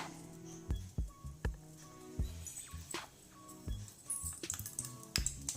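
Mustard seeds splutter and pop in hot oil in a pan while taro leaf curry is cooked, giving faint, irregular crackling ticks that come in quick little clusters.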